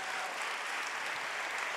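An audience applauds at an Italian event with actor Valerio Mastandrea and a singer: a dense, steady wash of many hands clapping together, even and fairly distant, with no individual claps standing out and no speech over it.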